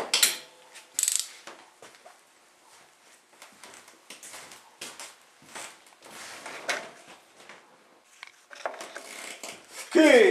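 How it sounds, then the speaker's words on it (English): A socket wrench ratchets in quick bursts while tightening a bolt on a motorcycle built for dirt drags with a 13B rotary engine, clicking repeatedly amid handling noises, with a louder ratcheting run at the end. "Okay, socket and my metric fiddle wrench."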